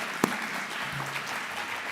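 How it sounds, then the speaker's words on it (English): Audience applause at a national championship debate event awards ceremony, a steady wash of clapping from a crowd lasting the whole moment, with a brief louder clap or knock near the start. "So big round of applause for them."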